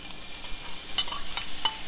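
Hot olive oil sizzles steadily in a pan while Caribbean stew fish is being prepared, a close, continuous hiss with faint crackles and a few small pops, with no talk over it.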